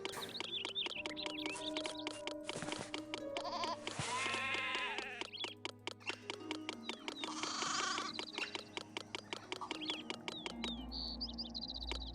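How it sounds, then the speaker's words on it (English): Sheep bleat in the video game Zeus: Master of Olympus, with repeated wavering bleats from several animals over light chirping bird calls and a low ambient hum, fairly quiet throughout. "Release the sheep."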